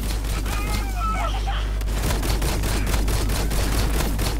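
Enemy gunfire in the looter-shooter Borderlands 3 crackles in dense, rapid bursts through the clip, steady and fairly loud, with game effects swirling in the background.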